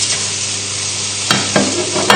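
Pork pieces hit a hot pan and sizzle steadily, a dense close frying hiss with a few sharper bursts and clatters as more meat goes in near the end.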